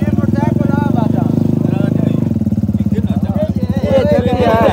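A motorcycle engine runs at a low, steady drone beneath loud, continuous talk from several voices at a wedding mehndi celebration.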